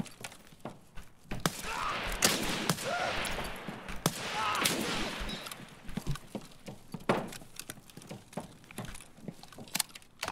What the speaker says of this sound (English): Who's shooting the Mosin at me?